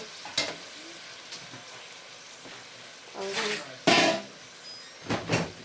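Curry being mixed and fried in a pan, a faint low sizzle broken by several louder scraping stirs, with a few spoken words in between.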